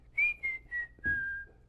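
A person whistles a short birdlike phrase of four descending notes, clear and close, imitating a bird's song.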